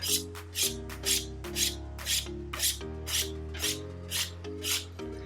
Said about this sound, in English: That's right, we got to sharpen our knives.